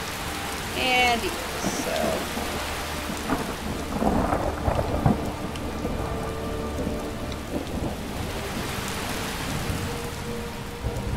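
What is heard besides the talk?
rain in the video game Skyrim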